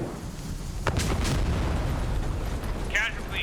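A loud blast-like burst with a sustained rumble as a fuel truck explodes in a Vietnam War game, followed by a short crackling sound near the end.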